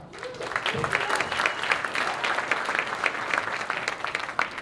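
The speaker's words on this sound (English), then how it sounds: "Let's have a round of applause, come on." Steady audience applause at a gadget game show, a dense patter of many hands clapping, sustained throughout at moderate loudness.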